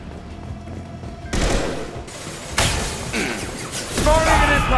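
An impact shot and other gunfire ring out in Mass Effect 2 combat as a series of sharp, loud bursts and crashes, with a voice speaking briefly in between.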